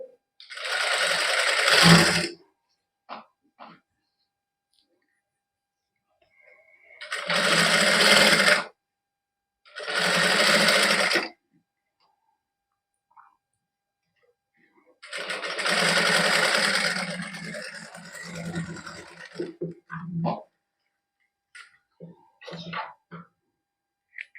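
A sewing machine stitches zari lace onto a heavy party-wear suit in several loud bursts of a few seconds each, separated by quiet pauses, with a faint voice and small handling sounds between runs.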